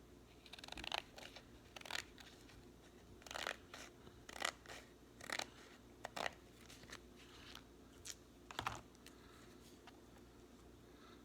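Scissors snip through paper border strips in quiet, close, irregular crunchy cuts, with roughly a dozen bursts separated by brief pauses.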